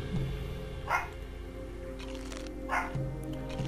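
A dog barks twice, short and fairly faint, a couple of seconds apart, over a steady tonal background.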